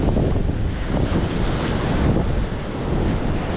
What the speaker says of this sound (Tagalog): Balik na naman yung hangin.